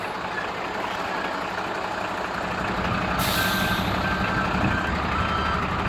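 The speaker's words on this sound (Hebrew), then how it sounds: "אני לוחץ עכשיו על הבלם כדי לשמוע שאין לי דליפות אוויר" A truck's air brake pressed while checking the service and control lines for air leaks, heard as a steady hiss over an idling engine, with a sharper burst of released air midway and a faint reversing beep in the background.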